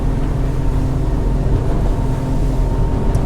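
A Jeanneau Merry Fisher 795 Sport motorboat engine speeds up offshore, giving a steady, loud, low drone with water and hull noise. No one talks.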